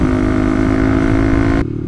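A Kawasaki Ninja ZX-25R motorcycle on a leisure ride gives a loud, steady, high-pitched engine drone that holds constant, then drops off abruptly near the end.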